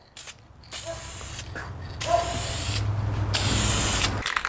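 An aerosol can sprays a light coat of vinyl paint onto an inflatable boat in several close, hissing bursts of one to two seconds, separated by short pauses.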